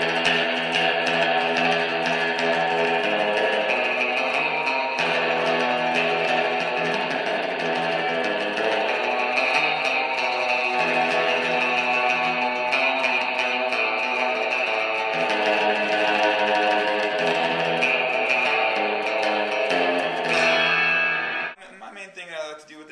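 A Fender Road Worn 60's Stratocaster electric guitar plays surf-style lines drenched in reverb, a continuous bright twangy melody ringing loud throughout, ending abruptly.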